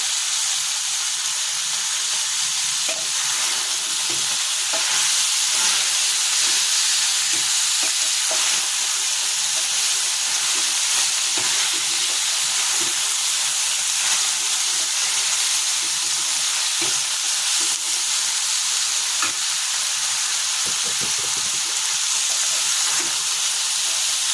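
Chillies cut into large pieces fry with liver in a pan for a Chinese-style stir fry, producing a steady, dense, loud sizzling hiss that runs unbroken throughout, with faint stirring ticks beneath.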